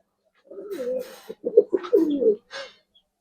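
Giribaz silver high-flyer pigeons coo in soft, warbling low phrases, a few rolling calls in close succession, close by and alone with no talk.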